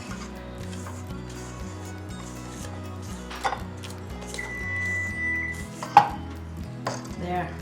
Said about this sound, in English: So we're going to scrape this up. Scrape the bowl one more time.